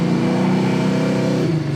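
Chevy Nova with an LS engine swap revving, a loud, close, sustained engine roar that holds steady and then dips slightly near the end, with no talking.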